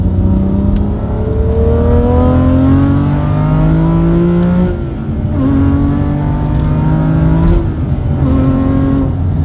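A manual-transmission sports car engine revs up through the gears, its pitch climbing, dropping at each shift, then climbing again, loud and close.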